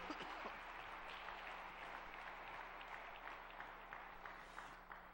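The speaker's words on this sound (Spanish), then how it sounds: "Dale un fuerte aplauso al Señor." Sustained applause from a church congregation fills the room, a steady, dense wash of clapping that continues without talk for several seconds.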